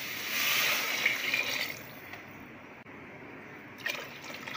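Water, about four cups, pours noisily into a pot of rice and lentils for a couple of seconds, then tapers off into quieter trickles and a few small splashes.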